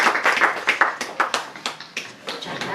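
An audience claps for Ana, a poetry reader, at a book presentation of poems for Palestine at Diwan. It is a short burst of close, uneven handclaps that keeps a steady density, with no voices.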